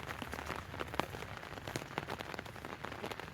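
Rain falls steadily on a Bangladeshi village, with dense patter and scattered louder drops striking nearby surfaces throughout, and no voices.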